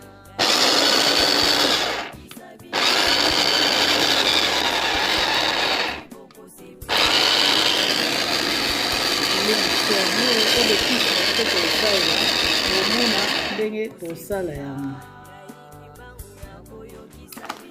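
An electric mixer whirs loudly through basil leaves and shallots in loud continuous bursts with brief pauses between them, then winds down near the end as the motor slows.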